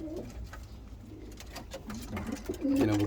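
Ornamental birds in a breeding aviary, with demkeş pigeons coo and call near and far in a continuous soft murmur that swells louder near the end.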